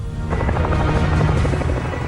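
Indian Army military combat helicopter with a dense, continuous rotor and engine roar, loud and close throughout, with no voices.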